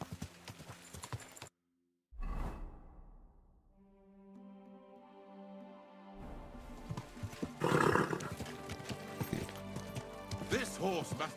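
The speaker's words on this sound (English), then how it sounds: "Easy, good horse." Horse hooves clip-clop in a medieval Bohemian video game, with a short dropout, a drawn-out whinny, then steady close hoofbeats mixed with rustling game sounds.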